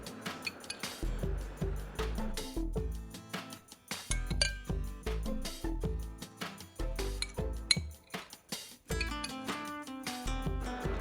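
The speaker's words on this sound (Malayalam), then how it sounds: "എല്ലാം നന്നായിട്ട് മിക്സ് ചെയ്തെടുക്കുക." Chicken pieces are tossed with crushed Lays potato chips in a bowl, producing close, irregular clinks, scrapes and soft thuds in uneven bursts with no talking.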